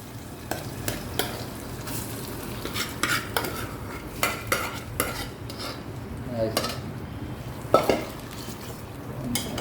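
Amaranth leaves go into a hot pan of tempering for a Telugu curry and are stirred, with a soft continuous sizzle and repeated metal spoon scrapes and clinks against the pan, close and fairly quiet.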